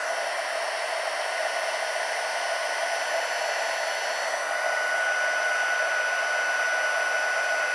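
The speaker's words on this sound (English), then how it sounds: "So I'm going to grab my Journey gun, and we're going to just take and turn it on and heat it." A heat gun blows a steady, even whoosh for about eight seconds while it melts embossing powder on a handmade Christmas card. The tone stays constant with no talking.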